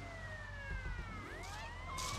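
A police car siren in GTA Vice City wails continuously, its pitch sweeping down and back up, with engine rumble and bursts of hissing noise underneath.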